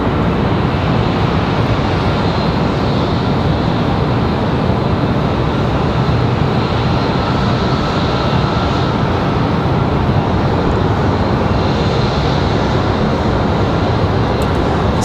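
A United airliner operated by Mesa Airlines at Raleigh-Durham airport produces a continuous broadband jet roar, steady and fairly loud from a distance throughout, with no speech.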